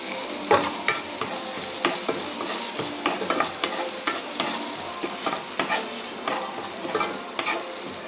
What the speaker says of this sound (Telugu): ఆనియన్స్ మగ్గడానికి కొంచెం సాల్ట్ వేసుకోండి, ఫాస్ట్గా మగ్గుతాయి.